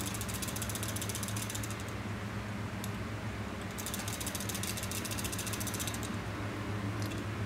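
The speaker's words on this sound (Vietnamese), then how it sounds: "Nghe nó chạy trong đây mọi người, lắc nghe nó chạy." A Japanese mechanical watch is shaken by hand, setting its movement running with a fast, steady ratcheting tick that repeats throughout, faint and close over a constant background hum.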